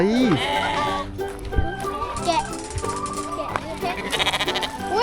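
Repeated bleating from a goat at a farm, close and wavering, mixed with children's voices chattering and shouting around it.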